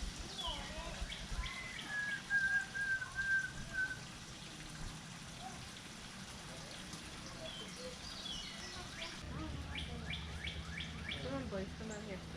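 Birds, pigeons among them, chirp and call steadily at an outdoor Ohio bird sanctuary, faint and somewhat distant, with a longer whistled call early on and soft running water beneath.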